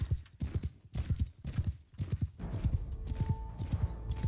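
Mounted horse archers in the video game Mount & Blade 2 Bannerlord, with a steady clip-clop of hooves up close, several horses overlapping, and a short whinny partway through.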